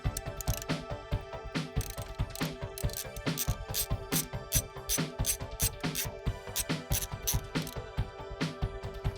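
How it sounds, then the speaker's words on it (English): A ratchet wrench removes the nut from an alternator power pole during an alternator upgrade, rapid clicking strokes in quick repeated bursts, close up and crisp with no talking. "Remove the nut from the power pole of the alternator."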